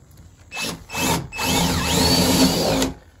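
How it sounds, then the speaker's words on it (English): A power drill whirs in two short bursts, then runs steadily for over a second as it bores a hole, close and loud, during a school bus conversion. "drill a hole down"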